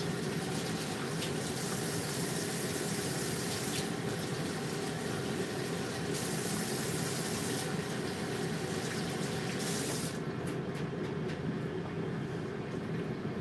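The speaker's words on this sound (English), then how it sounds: "So I'm gonna rinse my hands quick so we can get this started." Hands being rinsed under a running kitchen tap before preparing chicken wings, a steady close rush of flowing water that holds unbroken throughout with slight shifts in splash.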